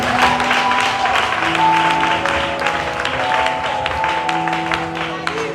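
Audience clapping at a French-speaking church service, a dense, steady wash of applause filling the room for several seconds with no clear gaps.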